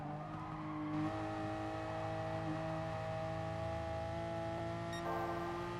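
A race car engine in Gran Turismo Sport on the Nurburgring Nordschleife holds a steady, tonal drone, with the pitch stepping up as it accelerates through a corner. No voices are heard over it.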